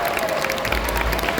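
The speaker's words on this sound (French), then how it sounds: "Je pense qu'on peut applaudir ce qu'a dit tous les comédiens" An audience applauds the voice actors at a Geek Days Lille panel with steady, dense clapping and crowd noise that fills the whole short moment.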